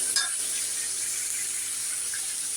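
Meat and vegetables fry in a pan with a steady, soft hiss of sizzling throughout, opening with a brief light clink close by.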